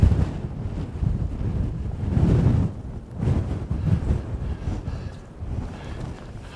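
Strong wind on an exposed mountain walk buffets the microphone in heavy, rumbling gusts that rise and fall continuously, with no voices.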